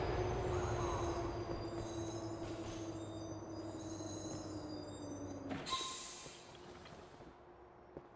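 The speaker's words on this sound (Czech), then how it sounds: "naše metro, nebo nevím, to není metro, to je prostě vlak" A train in the GTA IV video game, a steady electric hum and rolling rumble with a sliding tonal whine that cuts off abruptly, leaving a quieter fading tail.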